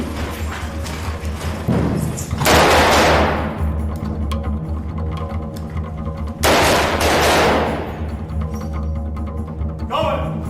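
Gunfire during combat in Iraq, with two loud, heavy bursts of shots that ring out over a constant low rumble and a scattering of smaller pops, all close to the microphone.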